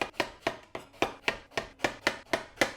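Knife cutting aubergine into thick slices on a board, a close, crisp series of about nine even chops in a steady rhythm, each a sharp thud with a short tail, with no voices.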